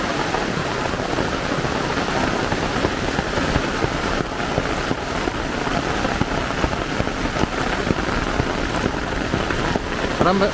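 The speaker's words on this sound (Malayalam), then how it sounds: "നല്ല ശക്തിയായി മഴയ്ക്ക് കുറേ ദിവസം കൂടി പെയ്യുക" Heavy rain pours steadily on a surface nearby, a dense unbroken roar of drops with no pauses.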